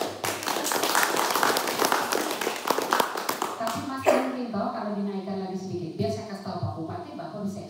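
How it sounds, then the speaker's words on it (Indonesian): An audience claps together at a PKK community outreach session on stunting reduction in Malaka, a dense burst of hand claps lasting about four seconds before dying away as talk resumes. "Tepuk tangan."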